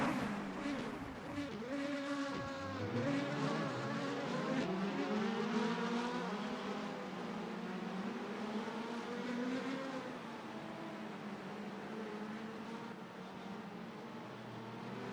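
Indy Lights race cars start at Mid-Ohio in a racing video game, a pack of engines roaring and revving together with rising and falling whines as the cars accelerate away, loud and continuous with no talk.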